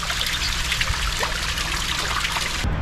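Spring water trickling and splashing at Bagnoles-de-l'Orne, a continuous close bubbling dribble that runs steadily before cutting off at the end.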